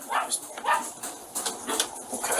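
Several dogs bark in short, scattered bursts at moderate distance, with a few whimper-like yelps against steady background hiss.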